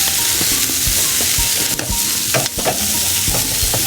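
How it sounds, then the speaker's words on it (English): Steady, loud sizzling of ribs on a hot grill, a constant crackling hiss with small pops scattered throughout. "Now you can hear the sizzle and everything."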